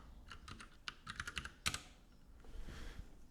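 Rapid irregular keystrokes on a computer keyboard, close and clear, with bursts of clacking taps and a louder cluster in the middle, fading into softer room noise at the end.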